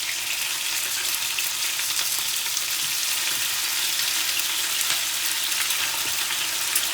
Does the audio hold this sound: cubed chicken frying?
yes